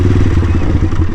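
A motorcycle engine drones loud and close while riding on a morning road near Buyo, Tinambac, Camarines Sur, a steady throbbing chug with rough rattling and wind underneath.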